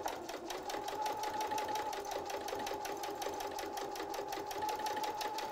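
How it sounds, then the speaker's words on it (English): A sewing machine stitches steadily through quilt fabric, running straight off the end of the piece with a fast, even mechanical rhythm, close and continuous without a break. "And you're just gonna sew right off the end."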